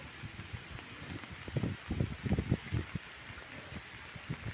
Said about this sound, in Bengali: প্রচুর বাতাস আর প্রচুর শব্দ। বাতাসের কেমন শব্দ!